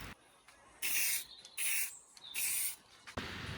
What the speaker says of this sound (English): Get a quick spray